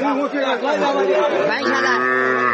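Several cattle moo loudly and close by at the Raniganj cattle market, among heifers and calves for sale, their long lowing calls overlapping amid crowd chatter.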